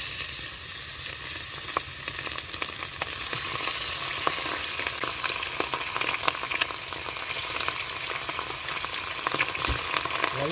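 Fish pieces rubbed with salt and turmeric fry in oil in a pan, giving a continuous dense sizzle with scattered crackles and pops throughout, close and even, with no talking.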